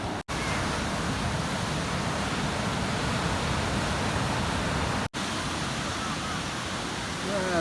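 Surf rolling in at Dreamland Beach, Bali at low tide, a steady broadband roar of breaking waves that fills the whole stretch without letup, loud and continuous.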